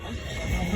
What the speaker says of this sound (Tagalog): Kabayo na.